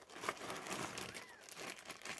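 A plastic bag crinkles faintly as it is opened to reach a neck traction device kit, soft irregular rustling and crackling at close range with no talk.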